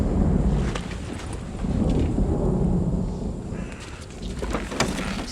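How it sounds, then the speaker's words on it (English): A thunderstorm rolls on with steady heavy rain and low, rumbling thunder, a broad continuous wash of noise that swells and eases, with no voices. "There's a storm coming."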